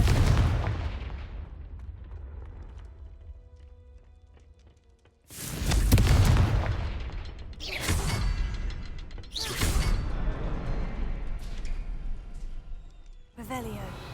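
A Confringo blasting spell goes off in Hogwarts Legacy, a loud whooshing burst with booming impact after a quieter stretch, followed by further crackling blasts under game music and effects.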